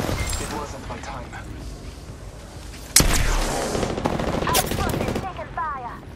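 Rapid automatic gunfire in a shooter video game, a dense loud burst of close shots that kicks in sharply partway through over a steadier background of combat noise.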